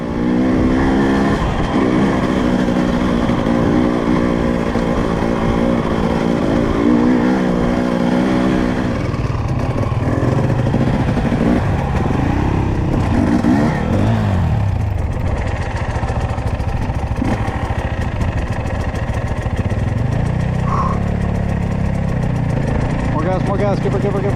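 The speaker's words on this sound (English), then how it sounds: "I'm happy to be back on the two-stroke, despite how terrible it sounds" A two-stroke motorcycle of about 500 cc rides around the Sea of Galilee. Its engine buzzes loud and close throughout, rising and falling as it revs up and down over a steady rush of wind.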